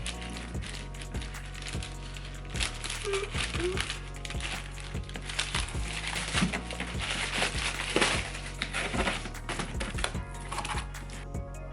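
Close-up crinkling, rustling and snipping as scissors cut open a shoe package, with irregular crackles and taps of plastic and cardboard through the whole stretch.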